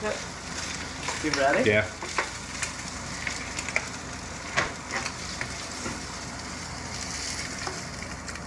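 Ingredients dumped into a pot of hot grease for gumbo hit with a sudden loud burst of sizzling frying, then settle into steady crackle and stirring under brief exchanges between two people.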